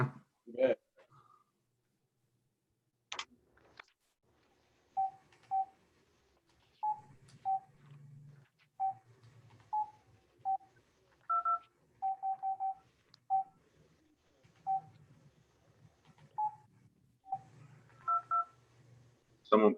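Scattered telephone keypad beeps, single and in quick pairs, sound irregularly through a quiet meeting room, with soft talk and murmuring between the presses.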